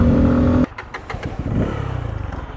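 A Bajaj Pulsar 250 motorcycle engine roars loudly on a race track, then cuts off abruptly. It picks up again into a pulsing, throbbing rhythm as the throttle is worked.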